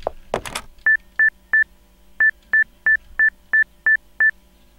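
A telephone number dialed on a phone in a horror video game, as ten evenly spaced crisp keypad tones with a short pause after the first three, following a brief handset rustle in an otherwise quiet scene.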